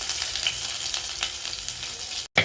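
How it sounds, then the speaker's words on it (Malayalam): Ginger garlic paste fries in hot coconut oil in a pan for a Kerala-style chicken curry, giving a close, steady sizzle with stirring. It cuts out for a moment near the end, then resumes. "ചട്ടിയിൽ വെളിച്ചെണ്ണ ഒഴിച്ച് ചൂടായി. അതിലേക്ക് നമ്മൾ ഇഞ്ചി വെളുത്തുള്ളി പേസ്റ്റ് ഇടാം."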